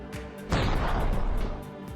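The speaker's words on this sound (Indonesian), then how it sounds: "rekan Kaido menembak Goku" A single heavy gunshot in a gangster film scene, a sharp boom that rings out loudly and decays over a second amid faint background sound.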